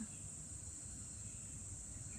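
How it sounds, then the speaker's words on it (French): Dense, continuous cricket chirping fills the air, a high steady trill over a low rumble of background noise. "Les grillons, ou les cigales, ou les criquets."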